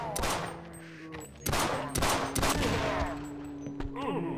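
Gunfire in the video game They Hunger: rapid bursts of shots, sharp and loud at close range, with brief gaps between volleys and ringing tonal game sounds underneath.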